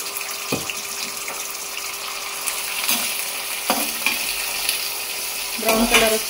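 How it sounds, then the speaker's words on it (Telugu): Washed bitter gourd pieces fry in a pan with a soft, continuous sizzle, broken by occasional clinks and stirring scrapes, and one louder stir near the end. "ఇవన్నీ కూడా వేసేసి కొంచెం బ్రౌన్ కలర్ వచ్చే"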